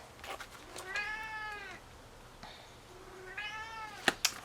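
A hungry cat meows twice at dinner time, each call drawn out and rising then falling, close and clear, with a few soft knocks and clicks of household movement around them.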